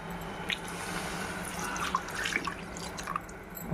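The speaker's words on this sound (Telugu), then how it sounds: "వాటర్ పోసుకుందామండి." Water poured into a pot of Andhra-style mutton curry: a soft, steady trickling and splashing with a few faint drips, close but quiet, and no talking.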